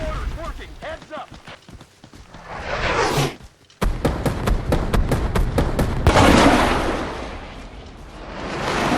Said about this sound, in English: Enemy mortars working. Heads up.